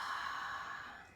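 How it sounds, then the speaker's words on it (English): A slow, deep breath pushed out through the mouth during a guided yoga relaxation, a soft airy exhale that fades gradually over about a second with no talking. "taking a few deep breaths into the nose, out through the mouth."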